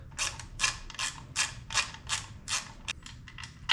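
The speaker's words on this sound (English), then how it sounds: "And then you get your torque wrench out." A torque wrench tightens the brake bolts on a 2022 BMW S 1000 RR track bike, producing a close run of about a dozen crisp ratcheting clicks in an uneven rhythm, with no one speaking.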